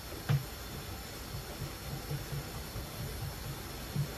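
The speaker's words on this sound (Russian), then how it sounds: "Хороший ливень пошел." A heavy rain shower pours down as a steady, even hiss, fairly quiet and continuous, with a few soft thuds breaking through.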